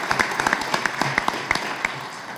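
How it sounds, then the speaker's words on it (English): Scattered, crisp handclaps ring out from the audience at a county freeholder swearing-in ceremony for Senator Menendez, sparse and uneven over a murmuring room. "Let's give another warm round of applause for Senator Menendez."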